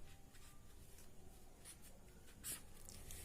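A pen scratches out a heading on paper during a Hindi class, faint, close scribbling strokes with a few brief sharper scrapes, alone and quiet.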